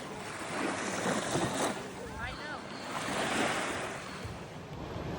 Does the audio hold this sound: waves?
yes